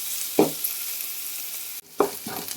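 Green chillies and onions fry in oil in a pan for a Kannada sambar tempering, giving a steady close sizzle with a few brief stirring scrapes.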